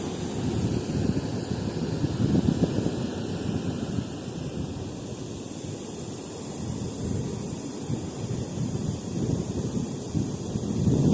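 Gusty wind blows at a dam during a fishing outing, roaring in broad waves and buffeting the microphone, rising and falling in strength throughout with no voices.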